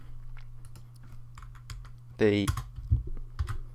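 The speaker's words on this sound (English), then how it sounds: "if we hit T on the keyboard" Sparse computer keyboard keystrokes click softly over a low hum, with a brief burst of voice in the middle and a few more taps afterward.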